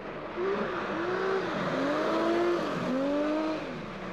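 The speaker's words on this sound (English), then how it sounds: "Petrol engine cars with a 3-litre petrol engine V6." Four-wheel-drive race cars with 3-litre V6 petrol engines under Renault Captur-style silhouette bodies. Engine notes rise and dip through repeated gear changes, loud and sustained against a wide noisy backdrop.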